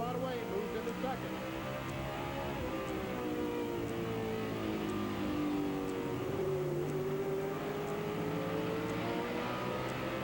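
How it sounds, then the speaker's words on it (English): NASCAR Winston West race cars run at Tucson Raceway Park, their engines droning and revving continuously in the mid-distance as cars run side by side, under steady race commentary. "Cars can run side by side as these two cars are doing now."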